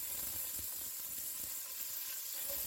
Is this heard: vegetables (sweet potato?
yes